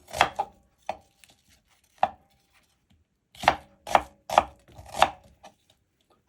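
A knife slicing chicken breast on a chopping board while preparing katsudon, crisp close knocks of the blade on the board, scattered at first then a quick run of four or five cuts, with no talking.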